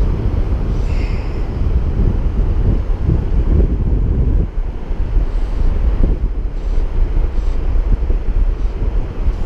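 Strong wind blows beside the Firehole River in Yellowstone, buffeting the microphone with a loud, continuous roar that rises and falls in gusts, with no voices heard.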